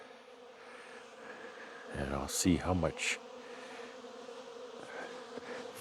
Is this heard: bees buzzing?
yes